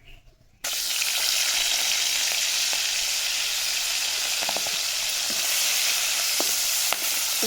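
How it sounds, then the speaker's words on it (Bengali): Prawns are dropped into hot oil in a pan: after a brief quiet moment a loud sizzle bursts in and carries on as a steady, crackling fry with occasional small pops. "তো দেখো আমার তেল গরম হয়ে গেছে। এবার আমি চিংড়ি মাছ কটা দিয়ে দেব।"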